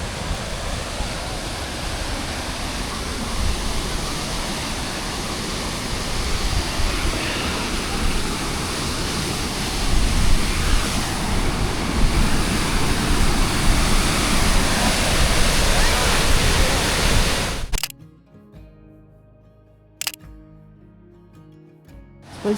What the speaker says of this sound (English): There's waterfall going on right there.